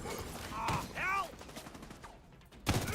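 An automatic shotgun fired in The Division video game, a few sharp, fairly quiet blasts spaced apart among chirpy game effects and soft background noise.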